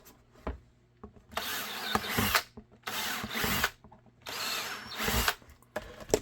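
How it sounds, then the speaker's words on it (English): A power drill bores holes in holster material, giving three loud, close bursts of grinding, each lasting about a second, separated by short pauses and light handling clatter. "Let's drill these out."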